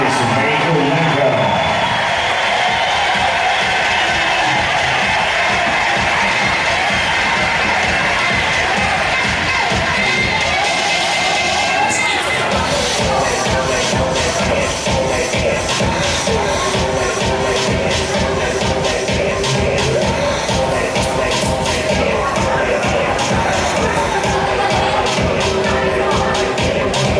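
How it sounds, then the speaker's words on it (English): A crowd cheers, claps and shouts continuously at the Miss Bacardi beauty pageant in Angeles City, a loud, busy roar of applause and excited voices that swells midway and never lets up. "Ladies and gentlemen, big round of applause for Miss May Ulanca."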